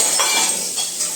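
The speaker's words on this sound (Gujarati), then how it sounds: "જો ભાઈનો વારો આવી ગયો વાસણ ગોઠવવાનો" Metal kitchen utensils being arranged clink close by, with a few light, quick taps and rattles in a short burst.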